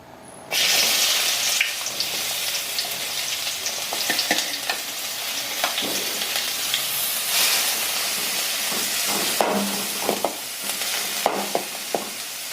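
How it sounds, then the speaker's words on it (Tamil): Onions sizzle and hiss steadily in groundnut oil for masala uttapam. The frying is loud and close, with stirring scrapes and clatters throughout. "இப்போ வெங்காயம் போடுறோம்."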